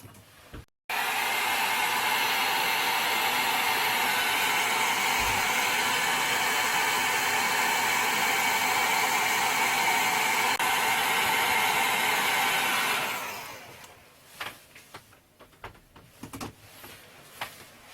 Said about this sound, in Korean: 제가 드라이기로 한번 말려드릴게요